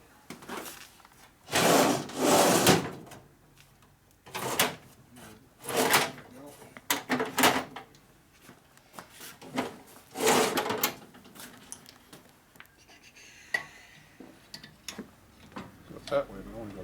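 A drawer in a workshop where a 1961 Harley-Davidson FL 74ci panhead engine is being rebuilt slides open and shut with several rough wooden scrapes and rattles, loud bursts separated by quieter gaps, while people talk.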